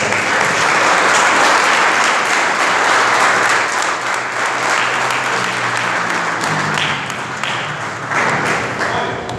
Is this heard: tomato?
no